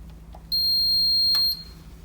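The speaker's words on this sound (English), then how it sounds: "One beep means it is on." A single electronic beep from an ELKAtherm heater's integrated digital thermostat switching on, high-pitched and clear, lasting about a second against quiet background hum.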